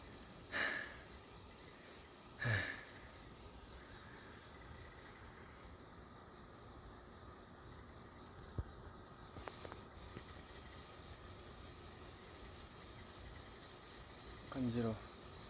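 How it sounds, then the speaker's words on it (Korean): Crickets chirp steadily in a quiet outdoor spot just after rain stops, a faint continuous high trill running throughout, with a few soft voices and brief rustles over it. "귀뚜라미 소리가 들리고."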